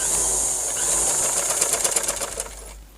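A sewing machine stitches tassels onto a long frock, a close mechanical whir that breaks into a quick run of rhythmic stitching pulses before stopping.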